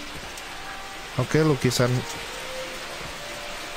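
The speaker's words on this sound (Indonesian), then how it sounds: "kenapa dalamnya hujan?" Steady indoor rain falls inside a room in Escape Simulator as an even, hissing wash, with someone speaking briefly over it.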